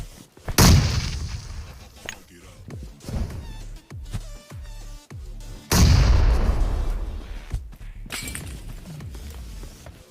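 Grenade explosions in the battle royale game BGMI erupt in two big, loud booms with shattering debris, separated by scattered sharper gunshot-like cracks and thuds.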